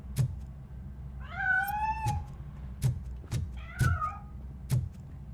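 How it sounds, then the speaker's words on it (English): A cat in the video game RoboCop: Rogue City gives two drawn-out, rising-and-falling meows over a low steady background hum, with sharp clicks and thumps spaced through the clip. "That cat must be hiding inside."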